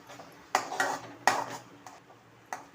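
Half a spoon of kasuri methi, Kashmiri chilli powder and coriander powder being sautéed in a pan, with a few soft metallic spatula knocks and scrapes against the pan over a quiet background.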